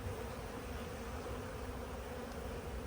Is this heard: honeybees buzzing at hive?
yes